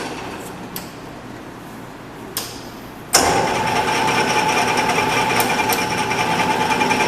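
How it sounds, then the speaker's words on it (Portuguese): A metal lathe is switched on with its spindle rotation reversed: a few faint clicks, then a sudden onset of a loud, steady mechanical whir that runs on evenly. "invertendo a rotação do torno"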